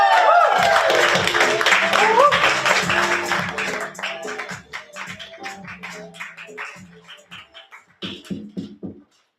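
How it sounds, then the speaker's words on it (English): An open mic audience claps for a performer named Derek, starting as a loud, full round of applause that gradually thins into scattered individual claps and dies away. "Make some noise for Derek. Clap till Derek gets to the microphone."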